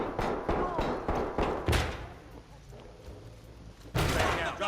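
Gunshots crack during a room breach in the tactical shooter Ready or Not, a rapid string of close bursts at the start, then a quieter stretch of thuds and room noise before another loud volley near the end.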